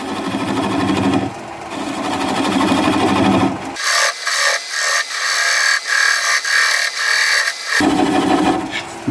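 A 3/8 inch swept-back bowl gouge cuts a black walnut bowl on a lathe at about 400 RPM, giving a loud, continuous rasping scrape that pulses unevenly, with a short break in the rougher cutting midway.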